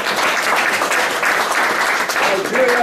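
An audience at a Nigerian diaspora annual general meeting in Rome claps for Nigeria in a thick, continuous wash of applause. The clapping stays steady and fairly loud throughout, with no break.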